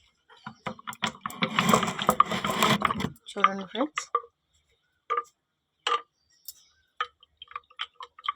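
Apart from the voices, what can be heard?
collagen powder being stirred into water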